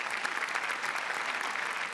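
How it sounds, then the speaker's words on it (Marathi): Dense, energetic applause from a studio audience for stage actors on a comedy show set, steady clapping throughout with no break. "जोरदार टाळ्या त्यांच्यासाठी"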